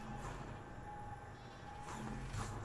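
Sheep bleat in the Flockers video game, a couple of short bleats rising over a steady game soundtrack with a low rhythmic backing.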